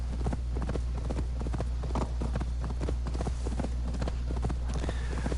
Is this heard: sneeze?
no